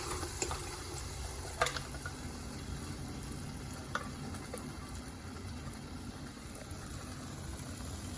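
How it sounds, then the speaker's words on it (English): Pureed tomatoes, onions and garlic sizzle and fry in a hot pan for paneer makhani, a steady dense crackle with a few sharper pops, close and alone. "And in goes the pureed tomatoes, onions, and the garlic."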